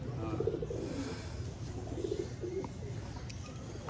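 Low, throaty pigeon coos sound in a few short bursts, close by, with light background noise and no talking.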